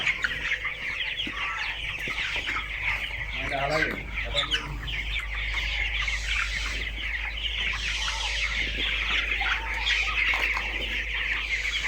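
Broiler chickens cluck steadily in a poultry shed, many birds overlapping at close range over a constant low hum, with occasional sharper squawks rising from the flock.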